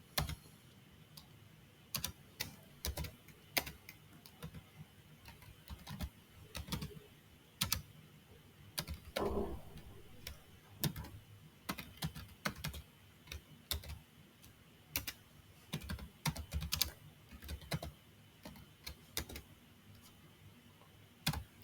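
Someone typing a SQL query on a computer keyboard: soft, scattered clicks and bursts of keystrokes with short pauses, quiet and close, in an otherwise hushed room.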